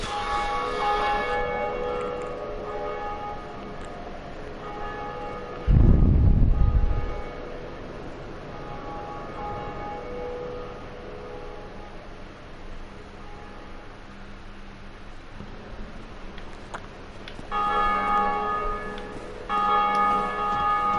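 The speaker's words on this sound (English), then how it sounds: "So we need to ring this bell here by pulling the lever" A heavy bell in a PS4 video game, rung by pulling a lever to help open the gates of a fortress, gives one loud, deep clang that fades over about a second above a quiet, steady game ambience.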